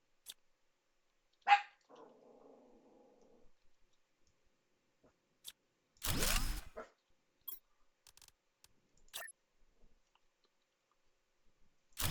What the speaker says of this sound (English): Don't be barking at everybody.